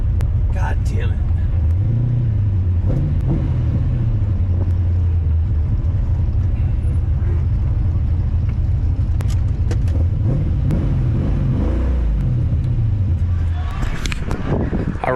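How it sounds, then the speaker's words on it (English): Car engine revving unevenly and misfiring from faulty spark plug wires, struggling in first gear during hard driving; loud continuous rumble with rising and falling revs throughout, someone talking over it. "as you could hear the way the engine was revving, this thing definitely misfiring like a motherfucker"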